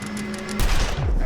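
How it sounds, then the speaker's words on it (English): Gunfire in The Long Dark survival game: a loud burst near the midpoint, followed by a deep low-pitched sweep, over a steady game ambience with a faint tonal hum. "You got shot."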